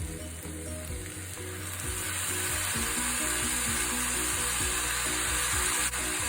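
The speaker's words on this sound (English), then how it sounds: "I'm gonna add about 2 tablespoons of the light sodium soy sauce again." Chicken fried rice sizzles loudly in a hot pan as light sodium soy sauce is added, a continuous bright frying hiss that swells slightly, with faint rhythmic stirring scrapes and no talk.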